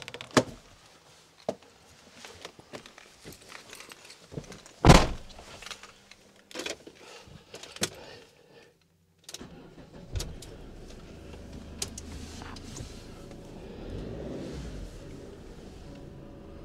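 Person getting into a car: rustling and shuffling, then a sharp heavy thunk of the car door slamming shut, a few more knocks and clicks, followed by a low steady interior hum.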